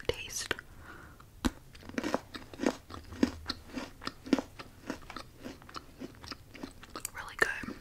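Crunchy chocolate-coated Pocky biscuit sticks being bitten and chewed close to the mic, a steady run of sharp crisp crunches about every half second, with soft mouth sounds between bites.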